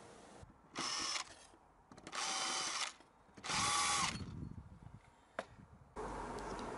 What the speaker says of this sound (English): Drill out each hole.